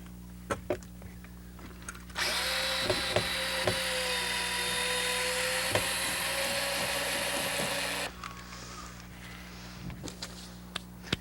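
A power screwdriver backs Phillips head screws out of a wooden covering board on a boat deck, whirring steadily for about six seconds, with clicks, knocks and handling noises before and after.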